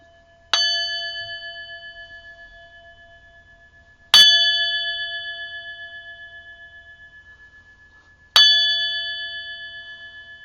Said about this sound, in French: C'est un tout petit bol chanteur